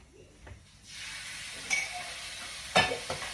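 A pulao tadka sizzles in a pan on an Indian home stove, a steady frying hiss rising in after a quiet start, with a couple of stirring clinks and scrapes.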